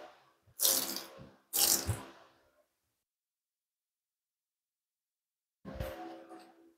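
Water spray rinsing a car during a ceramic sealant test, three loud hissing bursts: two close together, then a pause of silence before a third.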